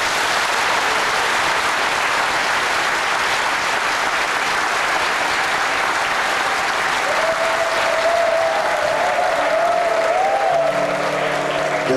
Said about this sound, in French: On applaudit pour l'honneur à nos frères.